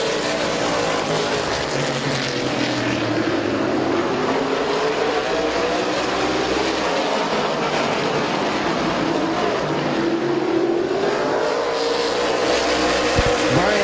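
Race cars roaring side by side on the oval at Midvale Speedway, a loud continuous engine drone with rising and falling pitch as they pass, no voices.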